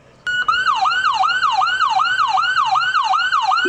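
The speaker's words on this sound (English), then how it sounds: "The new trucks will also feature LED lighting and improved siren systems." A loud fire truck siren wails, sweeping up and down in steady, rapid cycles, close by and sounding alone after a brief click at the start.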